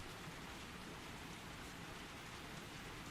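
Steady rain falls, a dense, even hiss of drops with no breaks or other sounds, close and constant throughout.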